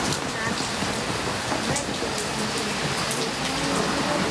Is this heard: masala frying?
no